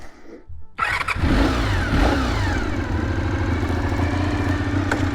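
A 1989 Honda VFR400R sport motorcycle's 400cc engine catches after a brief quiet moment, then settles into a loud, close, throbbing run with rising revs as the bike moves off.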